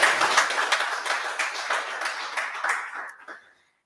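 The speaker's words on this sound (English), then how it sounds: "Let us give all entrepreneurs a round of applause." Audience applause at an entrepreneurship month dialogue event, a dense burst of many people clapping with distinct claps poking through, loud at first then thinning out and stopping abruptly near the end.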